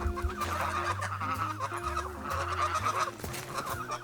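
Geese honking and clucking in a close, loud and steady chorus, the calls overlapping with no talking.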